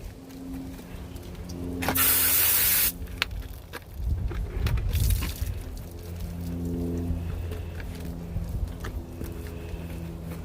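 High-pressure water spray rinsing degreaser off the wheels and tires of a Camaro SS, with a loud, steady hiss in one burst and a second, rougher burst shortly after, over a faint background hum.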